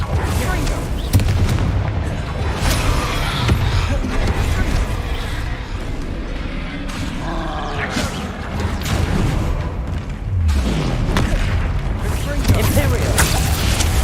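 Confringo fire spells in Hogwarts Legacy set off repeated booming explosions and blasts amid loud chaotic combat, with a voice calling out over the noise.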